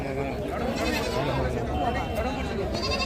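Goats bleat amid the bustle of the Gudur livestock market, several calls rising over constant crowd chatter and someone talking close by.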